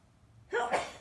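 A single sneeze bursts out after a half second of quiet room tone, sharp and fairly close, with a brief breathy tail.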